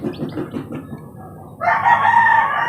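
Two-day-old baby chicks peep and chirp. Faint calls at first swell into a loud, dense, continuous chorus close by.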